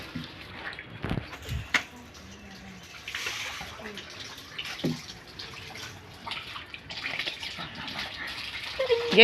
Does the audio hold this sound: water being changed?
yes